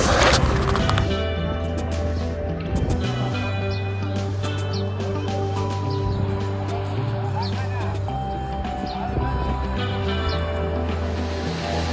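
A small man-made waterfall in the UAE gives a steady rushing wash of falling water, partly masked by nearby voices and a low continuous hum.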